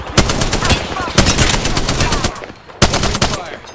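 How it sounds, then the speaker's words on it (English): Loud, rapid automatic gunfire in the video game Apex Legends: dense, sustained bursts that break off briefly twice and then resume at full intensity. "I am taking fire, friends."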